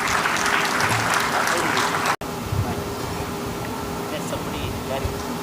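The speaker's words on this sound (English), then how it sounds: "Please give a huge round of applause." Audience applause at an innovation and entrepreneurship conference, loud clapping that cuts off abruptly partway, leaving a quieter room hum with scattered faint sounds.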